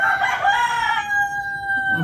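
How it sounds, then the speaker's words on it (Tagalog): A rooster crows nearby, a long drawn-out call fading at the end, with no one talking. "Ang ingay ng mga manok."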